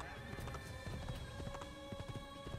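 Rhythmic hoof clip-clop of a horse running in Assassin's Creed, layered over steady synthetic music tones, with a constant busy background.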